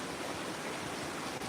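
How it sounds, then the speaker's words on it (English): A pond waterfall splashes in a dense, continuous rush of falling water, close and steady throughout the short stretch. "the natural oxygenation that occurs from the waterfalls"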